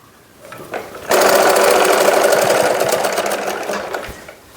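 Close and loud, a sewing machine stitches the folded half-inch edges of a fabric chair seat cover, starting with a few short bursts before settling into a steady rapid whir for several seconds, then slowing to a stop.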